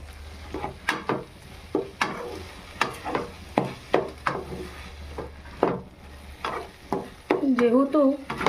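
Green chili paste stirred into potatoes and shushni greens in a pan, with a spatula scraping in repeated strokes over a soft sizzle; a short burst of brighter frying near the end.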